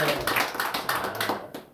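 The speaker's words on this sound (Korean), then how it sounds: "박수하겠습니다." Church congregation clapping together at a Sunday worship service after New Year greetings, a dense burst of hand claps lasting under two seconds that fades toward the end.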